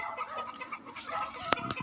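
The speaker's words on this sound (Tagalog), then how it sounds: "So, ayan yung mga manok guys." Chickens cluck softly and continuously, with a couple of sharper clucks near the end, close by and moderately quiet.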